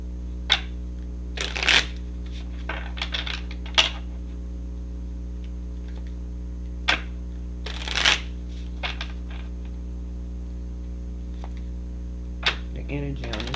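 A deck of tarot cards being shuffled in scattered short riffling bursts and taps over a steady low hum, quiet between the bursts.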